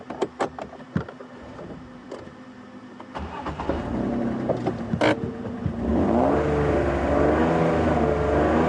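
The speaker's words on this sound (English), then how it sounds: "I'm going to give you a rev" Safari vehicle engine on a game drive, idling with clicks and knocks, then revving up from about four seconds into a sustained, rising and falling roar that grows louder toward the end.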